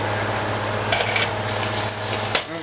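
Garlic slices toast in hot bacon fat mixed with olive oil, giving a steady close sizzle and crackle throughout, with a brief stir or clatter of the pan near the end.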